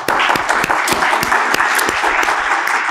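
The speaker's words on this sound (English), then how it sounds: "So round of applause for our friends at the Ford." Close, loud applause from a lecture audience, with sharp individual claps from nearby hands standing out in an uneven rhythm over a dense layer of clapping from the wider crowd, and no talking.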